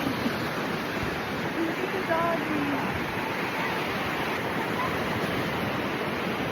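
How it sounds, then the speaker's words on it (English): Ocean surf rolls in at Stinson Beach as the tide comes in, a broad, constant roar of waves close by, with someone speaking briefly over it. "Oh, this tide is coming in hot."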